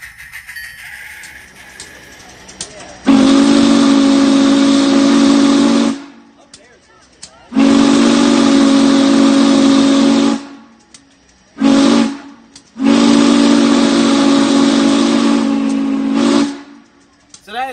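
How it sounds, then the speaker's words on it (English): Three long, loud steam whistle blasts with a short toot between, each a steady chime-like tone with hiss, separated by brief quiet gaps. "I actually feel like I'm blowing the whistle."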